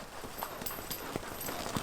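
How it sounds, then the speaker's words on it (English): A ridden colt's hooves clip-clop at a slow, uneven walk on ground outside a round pen, faint and steady with no talking. "Let this horse kind of come to a walk on his own."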